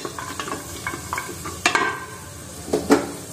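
Cashew nuts and raisins frying in a pan, giving a soft crackling sizzle with light stirring scrapes and a few sharper clinks, close and fairly quiet, with no voices.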